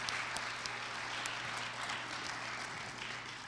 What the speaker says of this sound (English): how about one more round of applause for the vocal pop Broadway jazz performances tonight?